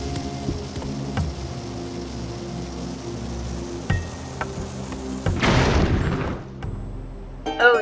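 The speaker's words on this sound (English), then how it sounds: "I use my bomb to hit it." A bomb explodes in Zelda: Skyward Sword's Lanayru Desert, one fairly loud blast with a noisy rumbling tail partway through, set against quiet game ambience and soft chimes.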